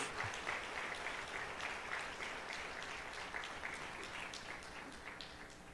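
A church congregation claps in praise during a pastor's service, a quiet but even wash of many hands clapping that continues steadily and fades slightly toward the end.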